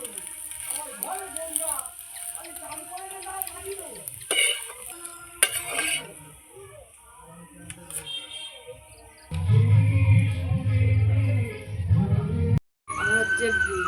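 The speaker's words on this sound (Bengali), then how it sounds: "লাল লাল করে ভাজছি সুন্দর করে।" Egg batter bread made with beetroot, carrot, onion, green chilli, rice flour and coriander frying in a pan, a loud continuous sizzle swelling in the later part, after quieter scraping and other sounds.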